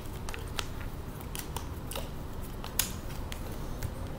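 A deck of playing cards being shuffled, a string of quick crisp riffling clicks and snaps at close range, fairly quiet with no talk.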